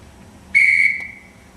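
A single sharp blast on a whistle summons the household, piercing and shrill, held briefly before trailing off, loud and close against a quiet room.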